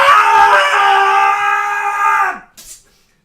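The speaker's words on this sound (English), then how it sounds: "a blood-curdling shriek" A blood-curdling shriek rises into a sustained, piercing harmonic wail for about two seconds, then breaks off abruptly and leaves a faint trailing sound.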